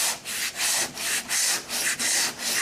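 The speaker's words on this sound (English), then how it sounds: "And when you're sanding them, guess what happens?" Rhythmic hand sanding of body filler, steady back-and-forth strokes of abrasive paper rasping over the hard filler surface, about seven strokes, close and alone.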